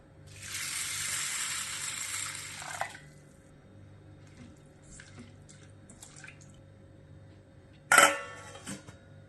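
Water pours steadily over whole wheat in a bowl for a few seconds, then stops; quiet clinks and small drips follow, with a sharp knock near the end.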